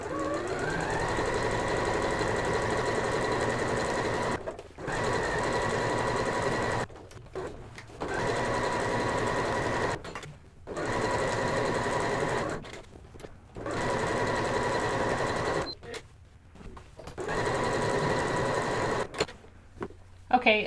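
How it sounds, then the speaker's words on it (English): A sewing machine runs a long straight stitch, set to a length of about 5, across a placemat in around six steady mechanical runs of close whirring, separated by short pauses. "I'm going to put my machine on a straight stitch, and I'm going to increase the length to about a 5"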